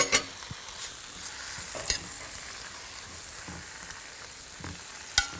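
Spinach sautéing with garlic in a pan, a soft continuous sizzle close by with occasional sharp scrapes and knocks of a utensil stirring, and no speech.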